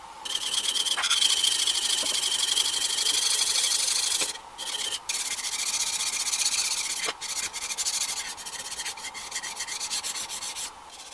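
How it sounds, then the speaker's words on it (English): The back of a Stanley No. 4 plane iron scrubs on a coarse diamond stone in long, continuous gritty rasping strokes, close and loud, with a few short pauses and light clicks between passes, no talk. "it just took a few minutes on a coarse diamond stone"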